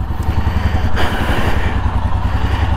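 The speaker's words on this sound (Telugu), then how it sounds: "ఇంజన్ కూడా వార్మ్ అయింది." A warmed-up motorcycle engine idles before an early morning ride, a steady low throbbing rumble, close and continuous, with a brief clatter partway through.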